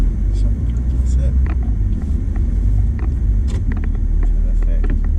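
An Ineos Grenadier reverses off-road in Scotland with a low, steady engine rumble close by, while people talk over it.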